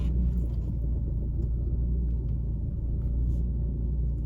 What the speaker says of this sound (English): let me turn my wheel back straight and just back up a bit